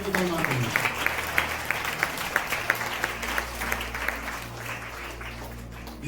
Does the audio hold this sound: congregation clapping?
yes